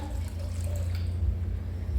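Filtered water is poured into a mixture for gluten-free, egg-free pancakes, a steady close splashing flow that runs throughout.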